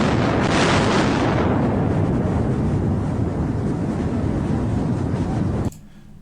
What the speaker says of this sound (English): here we have the audio extract from the USS Wisconsin historically firing